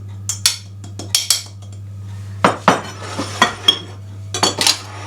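Flour being mixed into banana bread cupcake batter in a bowl, a series of spaced clinks and knocks of a utensil against the bowl over a low steady hum, no talking.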